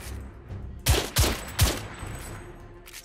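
Gunfire in The Order: 1886, three sharp, close shots in quick succession over a quiet background, followed by a faint trailing echo.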